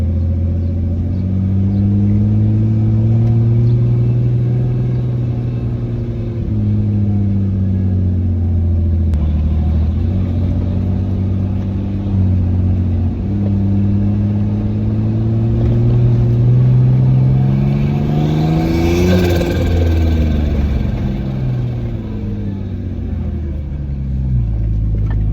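A Nissan Patrol fitted with a Barra engine and a bigger turbo drives under power, a loud, close, rumbling engine drone that rises and falls with throttle, with a higher whine climbing near the end.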